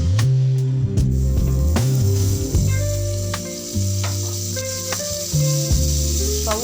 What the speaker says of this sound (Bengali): কড়ার মধ্যে বাটার দেব।